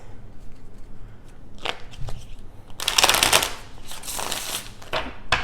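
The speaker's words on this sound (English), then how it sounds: "So I'm going to pull a few cards, pull a card for each week" Tarot cards being shuffled make crisp riffling bursts, with softer rustles first and then a dense, louder flurry of card flicks near the close.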